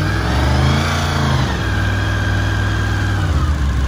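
A 1989 Honda VFR 750 motorcycle engine runs loud and close, rising in a rev around the middle before settling into a steady, throaty idle.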